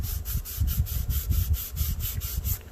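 A Scotch-Brite pad scrubs a metal engine part for a D-19 crank installation, making a quick, even series of about ten rasping back-and-forth strokes, close and moderately loud, with no voices.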